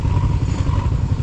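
Motorcycle riding on a mountain road, a loud close rumbling engine with clatter as the bike rolls over rough ground.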